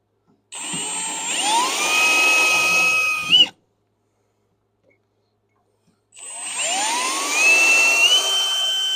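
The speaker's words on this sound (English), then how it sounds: "We'll just keep drilling a couple little holes and threading it in and popping it out." Power drill boring small holes in a skid steer, two loud whining bursts of a few seconds each with the motor pitch rising as it spins up, separated by a quiet pause.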